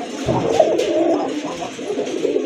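A pair of red Rajkola pigeons coo in soft, throaty bursts close by, a steady run of gurgling calls with no voices over them.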